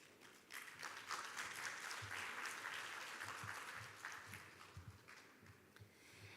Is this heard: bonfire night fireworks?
no